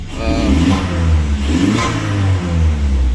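An Audi A4 TFSI engine revs loudly through the stock exhaust with its valves closed, a deep rumbling drone that rises and falls in a couple of throttle swells.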